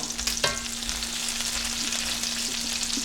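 Eggs fry in hot grease on a range top for lacy eggs, making a close, steady crackling sizzle with small pops and spatters and a faint constant hum underneath.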